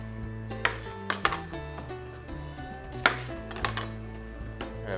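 Sharp knife strokes slicing small lemons on a cutting board, several crisp thuds at irregular intervals, close and clear with no talking.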